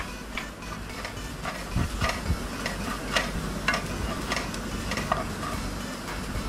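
Garlic-ginger paste and chilli paste stirred and frying in a pan for a prawn rice dumpling dish, with steady sizzling under repeated scraping ticks of a spoon, close and moderately loud throughout, no talk.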